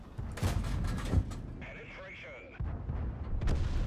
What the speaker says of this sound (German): Irgendwas ist hier explodiert und es klang nicht sonderlich gut.